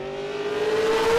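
A Mazda 3 sports sedan race car accelerates at Winton, its engine note rising steadily in pitch and growing louder over a second, heard alone.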